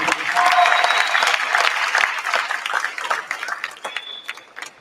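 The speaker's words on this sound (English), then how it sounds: "Let's give them a big round of applause for these four athletes." A crowd at a high school signing day breaks into steady, loud applause for four athletes, a dense wash of clapping with cheers and voices mixed in that tapers off near the end.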